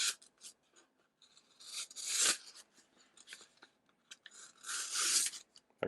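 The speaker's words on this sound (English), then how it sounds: "So I have an envelope here, we'll try cutting this." A folding pocket knife with a built-in rechargeable flashlight slices through a paper envelope, making close, dry scratchy rasps in short bursts with two longer, louder tearing strokes and quiet gaps between them.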